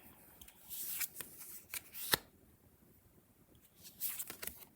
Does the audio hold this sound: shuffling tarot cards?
yes